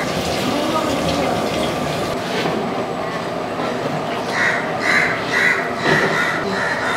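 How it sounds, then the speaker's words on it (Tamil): Water poured steadily into a pot of rice for biryani, a continuous rushing splash close by, with a voice speaking briefly in Tamil near the end. "இப்போ பிரிஞ்சிக்கு தேவையான தண்ணி ஊற்றியாச்சுங்க."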